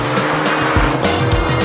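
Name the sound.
Mini Cooper exhaust sound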